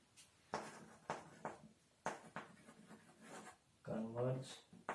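Chalk or marker scratches out a math sequence on a board in short strokes, faint and close, interleaved with a teacher speaking.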